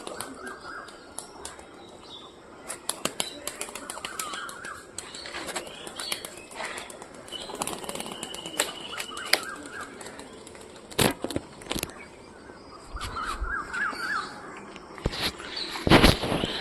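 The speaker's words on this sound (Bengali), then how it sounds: "এখন আমি কবুতর উড়াবো" A flock of pigeons takes off, with bursts of flapping wings and sharp clapping wingbeats scattered across an outdoor background. Faint chirps and coos come from nearby birds.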